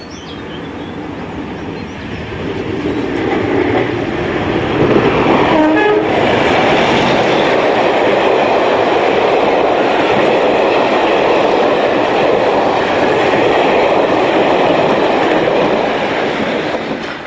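Diesel locomotives 172 and 55019, top and tailing a rail tour train past Astley in June 1999, build into a loud, sustained rumble and clatter of passing wagons that slowly fades toward the end.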